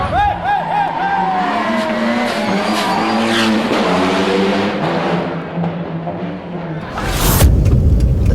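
Mitsubishi Lancer Evo RS, a first-generation car that was raced, accelerating hard, its engine climbing through gears in rising pulls with brief shift breaks, ending in a loud burst of wind and roar close to the microphone.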